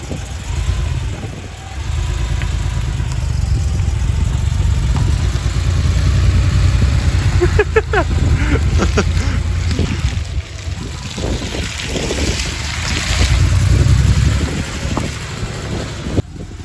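The engine of a 1986 Porsche 911 Targa, pulled from abandoned storage, rumbles low and loud on its first drive, a steady throaty drone with occasional clunks and rattles over the top.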